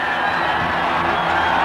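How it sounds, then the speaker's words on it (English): A dense, steady roar of a racetrack crowd at a horse race, loud and continuous with no breaks, sounding close and filling the space. "The crowd roars"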